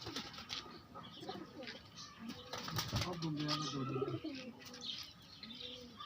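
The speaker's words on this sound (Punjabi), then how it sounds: "ਇਹ ਜੇਡ ਦੇ ਵਿੱਚ ਰਾਤਾਂ ਰਹਿਣ ਵਾਲੇ ਕਬੂਤਰ ਆ" Night-roosting pigeons cooing in a loft, soft repeated throaty coos with a few chirps and faint wing flutters, mixed with nearby people talking.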